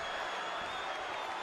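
A WWE 2K20 arena crowd in Sacramento, a steady, distant wash of cheering and applause that stays at an even level without standout shouts.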